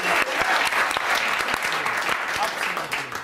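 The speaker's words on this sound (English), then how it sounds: "Let's have a round of applause for Alison McGowan." Audience applause from a studio crowd, a dense, steady clatter of clapping hands with a few whoops, loud and continuous for a few seconds.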